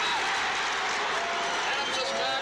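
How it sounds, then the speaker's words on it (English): A dense, loud crowd roar swells without pause through a packed stadium at the 1974 TFL football grand final, in the last quarter, steady and close with no clear breaks. "The roar from the crowd"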